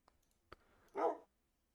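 A dog barks once in a video game, a short, mid-distance bark that follows a couple of faint clicks.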